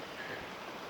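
Creek water runs steadily beside an old gold rush cabin in California gold country, a continuous close rushing wash with no voices over it.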